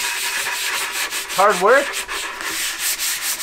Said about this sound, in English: Do a lot of sanding.